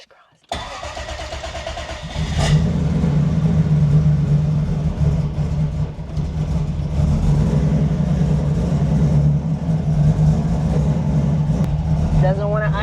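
A Toyota Supra MK4 with a 76mm turbo cranks briefly, catches and settles into a loud, rough, uneven idle that rumbles on close by.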